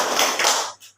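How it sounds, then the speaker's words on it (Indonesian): A group of students claps hands together in a classroom, a short dense burst of applause lasting about a second that cuts off abruptly. "Beri tepuk tangan."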